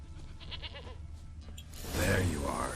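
Goat bleat in the video game The Witcher 3, a loud, brief, quavering cry that comes after a man's quiet speech and ambient game sound.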